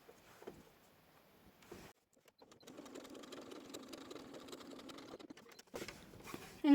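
Sewing machine stitching two layers of fabric placed right sides together for a double coin purse, a steady fast mechanical whir with rapid needle patter running for about three seconds, framed by brief handling noises and short pauses.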